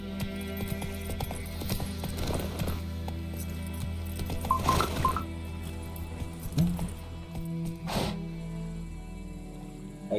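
Horse hooves clip-clopping in The Witcher 3, a steady rhythmic gallop over a bed of game music and ambience, with a brief whinny-like accent midway.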